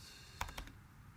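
A few soft keystrokes on a computer keyboard, a short burst of faint clicks in a quiet room while entering a rotation value in laser-cutting design software.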